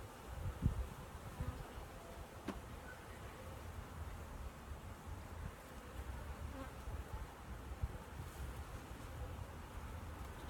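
Honey bees hum in a continuous soft buzz close around a hive box during a honey harvest, with light wind noise and a few faint knocks.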